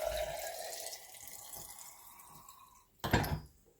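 Water running from a tap into a container for orchid care, a soft close trickle that thins and fades, then a brief louder splash near the end.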